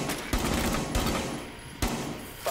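Gunfire in the tactical shooter game Rainbow Six: Siege, with loud bursts of shots opening near 0.3, 1.0 and 1.8 seconds and each decaying into a dense, rattling tail.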